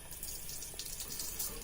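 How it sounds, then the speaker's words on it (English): Tap water running steadily into a sink while hands are rinsed during a surgical scrub, a continuous close splashing hiss without talk. "Now he is going to rinse his hands underneath the sink, keeping his fingers upward"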